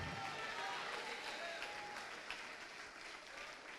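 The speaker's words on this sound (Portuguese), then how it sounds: "E está chegando mais, vamos aplaudir mais." A church congregation applauds during a service, a faint, distant, steady patter of clapping from a large crowd with a voice over it.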